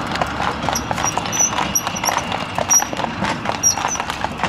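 Stallions' hooves clip-clop steadily on a hard surface in Negrești-Oaș, Satu Mare, a busy uneven trot of several horses at close range, with faint voices now and then.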